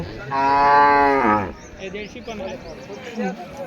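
A cow at a rural cattle and bullock market gives one loud, drawn-out moo close by, followed by people chatting and bargaining nearby.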